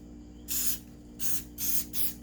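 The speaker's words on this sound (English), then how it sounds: "The silicone spray certainly won't hurt it." Four short hissing bursts from an aerosol can of silicone spray, evenly spaced, close by over a faint steady hum.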